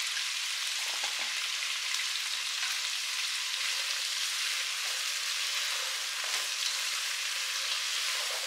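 Vegetables for sambar frying in hot oil in a pan on a low gas flame, with salt just added, giving a steady, close, even sizzle that crackles throughout and has no talk over it.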